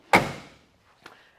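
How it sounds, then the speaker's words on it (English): A car door on a 1963 Chevrolet Impala SS slams shut with one loud, close thunk that fades quickly, followed a moment later by a softer, brief click. "So we'll close that door up."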